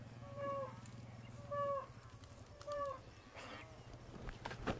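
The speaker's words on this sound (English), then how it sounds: "When the cattle are working, I'll let them do their work." Cattle low in a few short, moderately distant calls while being herded on horseback, spaced roughly a second apart over a low steady rumble of outdoor background noise.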